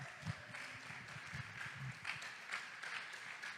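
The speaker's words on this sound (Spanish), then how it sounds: "Dele ese aplauso al Señor si usted se lo quiere dar" A church congregation applauding together, a steady wash of many hands clapping at moderate volume with a few louder bursts, sustained throughout.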